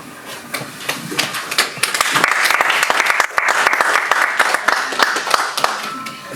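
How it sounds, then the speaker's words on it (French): An audience at a live inauguration event in Paris breaks into loud, sustained applause, a thick crowd of clapping hands with voices mixed in, swelling and staying strong to the end. "Applaudissez encore, s'il vous plaît."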